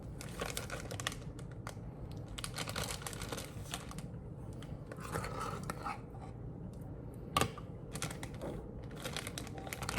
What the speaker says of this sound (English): And then I just zip it closed, get out as much of the air as possible.